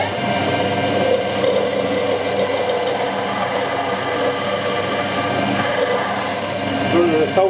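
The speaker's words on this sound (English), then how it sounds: "So I'll try speeding the lathe up a little bit." A wood lathe turning a ball on a ball-turning jig at higher speed, around 1000 RPM, gives a steady, close, broadband whirring and rasping hum that runs continuously without pauses.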